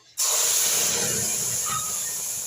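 Tomato garlic paste and grated ginger hit a hot pan for chutney, bursting into a loud, sudden sizzling hiss that holds steady and fades only slightly.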